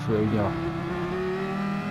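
A Group 1 Le Mans race car engine revs in Gran Turismo Sport, a steady rising mechanical drone with layered harmonics under someone talking.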